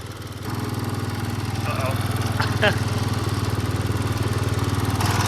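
Murray lawn mower engine running at a steady, fast idle, loud and close with a continuous throbbing drone, while a person speaks briefly over it.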